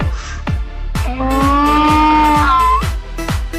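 A donkey in a video game brays loudly over a few seconds, a rising and falling harsh call with breathy gasps between the tones, heard up close.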